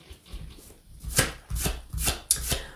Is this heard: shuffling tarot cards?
yes